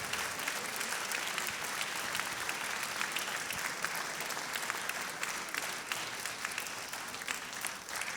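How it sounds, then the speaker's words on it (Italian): An audience applauds a Sardinian choir at a choral event for Sant'Efisio, sustained dense clapping from a crowd heard at moderate distance, steady throughout with no speech. "Un altro grande applauso per il coro Terramea"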